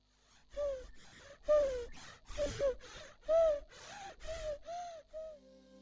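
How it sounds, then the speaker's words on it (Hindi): A baby breathes with strained, wheezy, rhythmic gasps, about eight labored breaths in a row, close up and fairly quiet. "ये है मेरे बच्चे की आवाज जब उसको सांस में तकलीफ है।"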